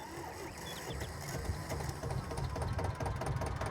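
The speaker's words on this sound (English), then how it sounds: "Ah, such a nice engine startup." A Zetor Z25K, a small 25-horsepower tractor in Farming Simulator 22, starts up and settles into a steady rattling diesel idle, close and continuous throughout with no talking.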